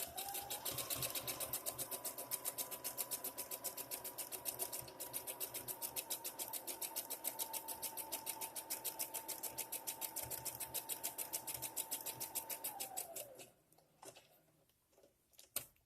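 A sewing machine runs back-and-forth stitches through scrap fabric for a cat bed, a steady fast rattling hum that holds for about thirteen seconds and then slows and stops, followed by a few clicks.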